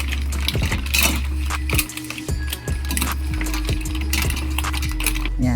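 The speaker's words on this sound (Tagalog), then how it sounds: "Haluin lang natin." A metal spoon stirs mussel soup with malunggay in a cooking pot, giving repeated close clinks and scrapes against the pot in an irregular rhythm over a low steady background hum.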